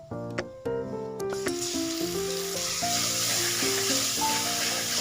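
Mustard-poppy paste frying in a pan with chopped onion and cumin, a steady broadband sizzle building after a few soft clinks and knocks at the start, with a faint tonal hum underneath and no talking.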